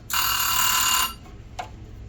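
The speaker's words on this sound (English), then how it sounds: "on this side is an actual little timer" Oven timer in the kitchen of a Cyclone 4005 toy hauler ringing: a loud, steady metallic bell for about a second, followed by a faint single ding.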